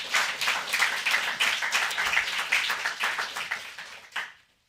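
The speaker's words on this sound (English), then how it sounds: "Another round of applause for Kazim Ali, please." An audience claps for a poet at a poetry festival reading, a lively burst of many hands that holds steady, then thins to a few last claps and stops.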